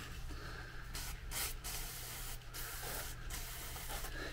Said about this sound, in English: a little spray of contact cleaner and a bit of a wipe